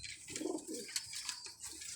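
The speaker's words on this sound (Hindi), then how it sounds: "ये देखें ये सियालकोटी कबूतर आप देखें भाईजान" Sialkoti pigeons coo softly at close range, a low rolling coo near the start followed by quieter murmurs, with faint higher chirps over a light background.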